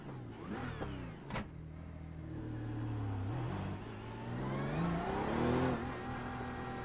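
A BMW race car in a sim racing game revs hard, its engine note climbing and dropping through gear changes with a short sharp pop near the start, loud and steady throughout with no talk.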